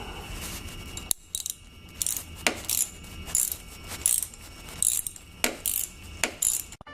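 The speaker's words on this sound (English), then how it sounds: "You've got your screw in the center, and I'm gonna just loosen that up while I put the camera down." A screwdriver loosening the center screw of an X-Grip RAM mount for a 2017 Kawasaki Ninja 1000 gives rapid close-up ratcheting clicks in short repeated bursts, loud and alone.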